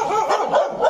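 A dog at a novitiate house in Meziphema, Nagaland, barks at a stranger in quick, close, loud yapping bursts.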